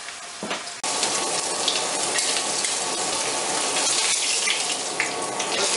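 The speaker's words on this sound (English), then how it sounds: "Oh yeah, hear that sizzle." A pork tenderloin goes into a preheated pan and breaks into a loud, steady sizzle of frying that starts abruptly and keeps going close up, with no talking.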